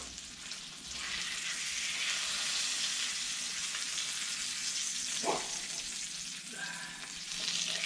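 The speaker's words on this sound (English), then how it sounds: "Flipping fish can be a challenge." Salmon fillets sizzle steadily on a Blackstone griddle, a broad, hissing frying sound filling the clip, with a short scrape or clunk as a piece is flipped partway through.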